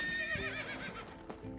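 A horse in the video game My Time at Sandrock gives a clear close whinny that rises and falls, with light hoof clip-clops alongside.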